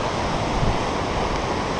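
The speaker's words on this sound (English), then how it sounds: "it's quite windy down here" Steady broadband wind roars across a rocky Everest Base Camp trekking trail in Nepal, a continuous loud rush with gusty low buffeting against the microphone and no voices.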